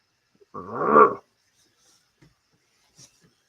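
A human voice imitates an angry growl: one short, rough, rumbling snarl, close and fairly loud, followed by near silence.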